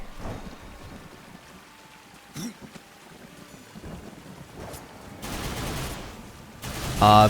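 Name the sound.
zombie rush sound cue in Darksiders 2 video game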